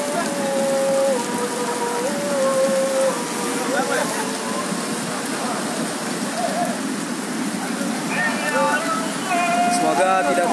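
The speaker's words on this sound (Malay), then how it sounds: "Hujan deras di Desa Natam." Heavy rain in a village during flooding in Southeast Aceh, a dense steady downpour hissing on surfaces nearby, with people talking and faint tonal sounds rising over it.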